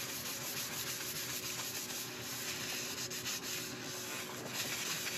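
Continuous abrasive rubbing of sandpaper against wood spinning on a lathe during outboard turning, a steady rough hiss with little variation throughout.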